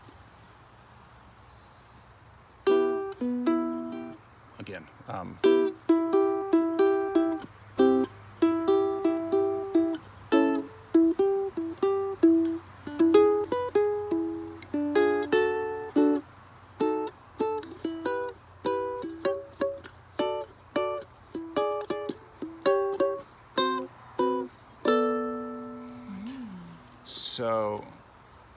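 Jazz guitar works through the bridge chord progression of a song, its bass line climbing slowly as the plucked chords shift along the fingerboard, played clearly and up close after a brief spoken word.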